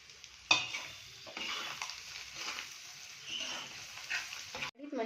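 Egg, onion and pepper fry sizzling in a pan while a spoon stirs and scrapes through it, with soft crackling and several distinct stirring clatters close up.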